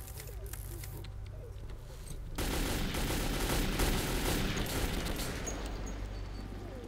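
Sustained machine gun fire from a Metro 2033 video game, a dense continuous rattle that starts abruptly after about two seconds of quieter game ambience and keeps going loud to the end.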